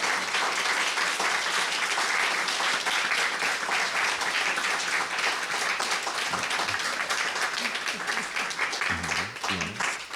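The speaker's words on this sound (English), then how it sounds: "I just want everyone to give another round of applause for the amazing panelists" A symposium audience gives a sustained round of applause for its panelists. Dense clapping fills the room steadily, then thins near the end as a voice starts to come through.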